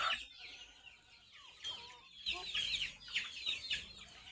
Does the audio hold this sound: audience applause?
no